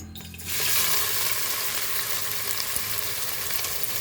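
Chopped onion hits hot oil with bay leaves in the pan, bursting into a loud, steady sizzle after a brief quiet start and frying continuously with no talking.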